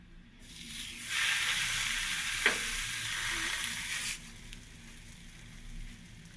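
Masala akki rotti frying in oil in a pan, a loud close sizzle that swells as oil is added, with a brief tap, then settles to a softer steady hiss.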